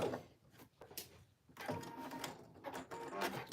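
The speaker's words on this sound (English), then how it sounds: "Let me back stitch here." A sewing machine back stitches in short mechanical bursts, with a pause between runs and close, quiet whirring and ticking at the needle.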